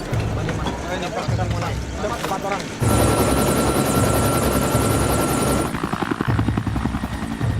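A helicopter flies overhead during a search for a vanished plane, its loud, steady rotor and engine drone filling the whole stretch and shifting in tone partway through.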